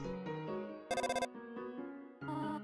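A telephone rings in the video game Undertale as a chirpy electronic ringtone, with repeated melodic bursts and one buzzy trill, clear and alone.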